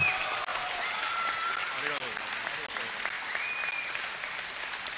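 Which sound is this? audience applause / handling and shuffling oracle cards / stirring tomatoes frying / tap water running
audience applause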